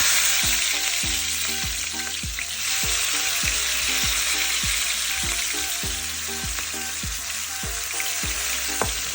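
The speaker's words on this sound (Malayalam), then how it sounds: "സബോള ഇട്ട് കൊടുക്കാം." Continuous close sizzling of chopped onion frying in oil, with occasional pops and the clink of stirring throughout.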